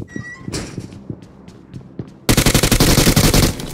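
PUBG Mobile gunfire: a few scattered shots and clicks, then a sudden loud burst of rapid automatic fire close up.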